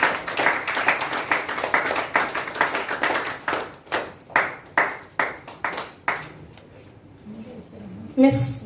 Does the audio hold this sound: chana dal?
no